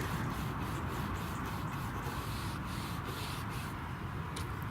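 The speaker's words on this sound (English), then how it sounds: "a nice bit of light rubbing." Light sanding by hand on the body of a handmade guitar under construction, a steady continuous rubbing hiss with faint rhythmic strokes, close and alone with no talk.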